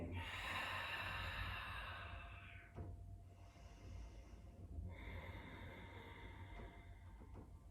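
Slow, deep breaths during a yoga eagle pose, with long airy inhales and exhales close to the microphone and a pause between them, with no talking.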